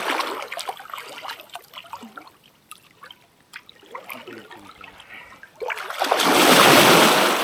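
People jump into a mountain lake in Norway, with scattered small splashes and trickling water followed by a louder, broad rush of splashing toward the end, fairly close.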